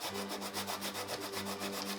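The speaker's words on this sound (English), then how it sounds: "then I usually take a sanding block" Steady rhythmic rubbing of a sanding block along the edges of a painted canvas, quick back-and-forth strokes, close and fairly quiet, with no talking.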